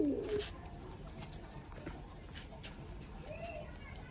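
Pigeons coo softly in a loft, low murmuring calls repeating under a person's nearby speech, with a brief louder sound at the start.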